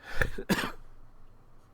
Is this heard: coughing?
yes